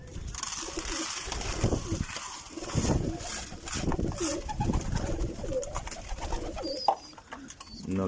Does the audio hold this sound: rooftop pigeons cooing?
yes